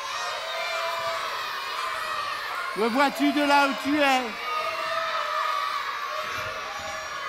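Crowd shouting and cheering at a theatre stage show, a brief swell of excited voices and whoops rising over steady background chatter, with someone speaking dramatically before and through it.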